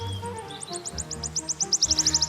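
Played-back wood warbler song outdoors on Dartmoor, high repeated notes accelerating into a fast trill, moderately faint over a low background rumble.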